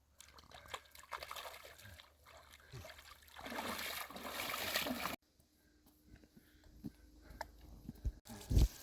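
Water pours steadily from a watering can onto the ground around newly planted trees, a splashing stream that swells, stops, then resumes briefly with a few drips.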